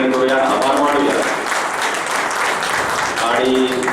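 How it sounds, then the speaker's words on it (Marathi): Audience applause for the organising team at a closing felicitation ceremony, steady clapping filling the hall throughout, with a voice speaking over it briefly at the start and end. "सर्व टीमचे एकदा टाळ्या वाजवून जोरदार अभिनंदन करूया, आभार मानूया"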